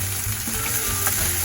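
Vegan beefy crumbles sizzle in a pan of soft-cooked bolognese base, a steady, close frying hiss with faint crackles and a low hum underneath, no voices.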